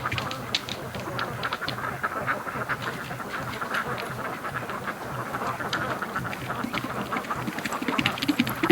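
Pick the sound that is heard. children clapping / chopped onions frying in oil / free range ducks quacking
free range ducks quacking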